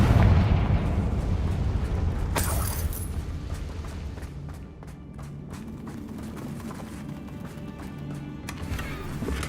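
The Confringo blasting spell goes off in the Hogwarts Legacy video game, a loud booming explosion with crackling bursts and a rumbling tail that rolls on for several seconds, with no talk.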